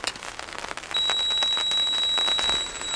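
A handheld wood moisture meter pressed into firewood gives off a steady, high electronic beep that holds for nearly two seconds over soft background noise.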